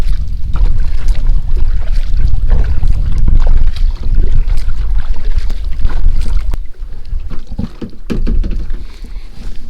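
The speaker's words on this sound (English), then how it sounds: "so I'm going to paddle up a little bit more" Paddle strokes splash and swish through water in an irregular rhythm, with steady wind rumble and rustling close to the microphone.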